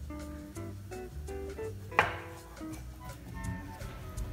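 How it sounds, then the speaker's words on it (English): Knife strikes on a cutting board chopping cabbage, a series of soft irregular chops with one sharper thunk, over quiet background music. "Chopping the cabbage."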